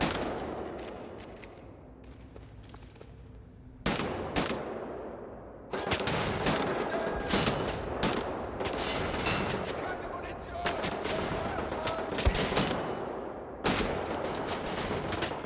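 Heavy automatic gunfire from the Wolfenstein: The New Order video game, with rapid loud bursts and sharp single shots. It starts sparse, then becomes sustained, near, dense firing with brief lulls between volleys.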